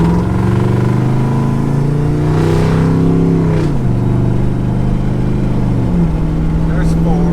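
A shop truck's engine runs loud and close on test, revving with rising pitch, then dropping as the transmission downshifts, with a second shift near the end, while people talk over it.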